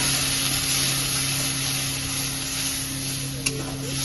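Water poured into a pan of frying beans, potato and brinjal gives a dense, loud, continuous sizzle with a faint steady hum beneath and one small clink, no voices.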